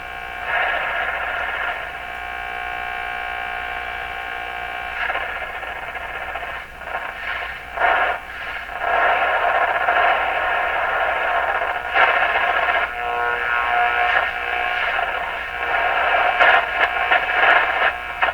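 Steady AM radio static hisses and crackles, with faint warbling tones and shifting noise bursts as the tuning drifts; no voices.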